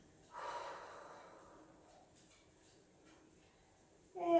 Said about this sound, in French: on peut expirer une dernière fois de la bouche